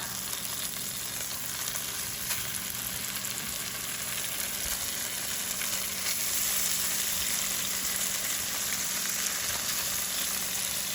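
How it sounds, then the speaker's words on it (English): Pork chops fry in butter in a pan, giving a constant loud, close sizzle with a hissing crackle that holds steady throughout, with no talking. "Now we're gonna go ahead and add in our pork chops."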